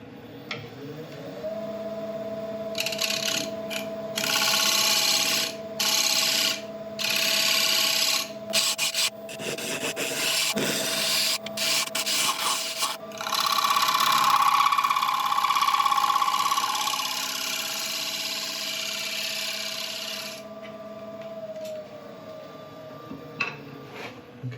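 A woodturning scraper works a spinning laburnum log on a lathe, with bursts of harsh rasping cuts over the lathe's steady hum, stopping and starting in short passes before the motor winds down.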